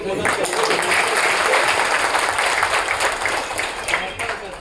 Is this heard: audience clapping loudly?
yes